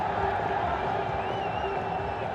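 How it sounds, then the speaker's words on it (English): A tremendous, packed crowd at a cricket stadium during a BPL 2025 qualifier between Fortune Barishal and Chittagong Kings, a dense, steady roar of many voices filling the air with no breaks. "It's a tremendous crowd."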